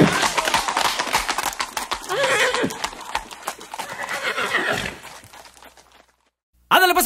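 Horse hoofbeats and whinnying sound loudly and close, layered with dense broadband noise and a busy rhythmic texture, fading briefly into near silence before a sharp burst returns at the very end.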